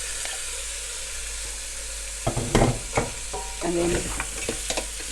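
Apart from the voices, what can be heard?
stirring beef stew with its juices in pot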